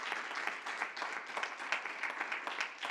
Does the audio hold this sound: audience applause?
yes